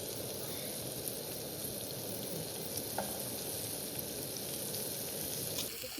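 Surmai fish and prawns fry in a pan with a steady, close sizzle and crackle, a dense hiss that holds for the whole stretch with a few small pops and no voices.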